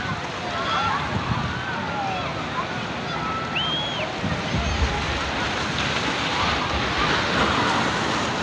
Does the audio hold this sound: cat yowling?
no